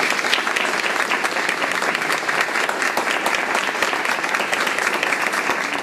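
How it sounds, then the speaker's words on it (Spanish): A seated audience at a ceremony for two outgoing deputy directors at CICATA Querétaro breaks into loud, dense, continuous applause that holds steady throughout. "Si por favor le podemos dar un aplauso a los dos."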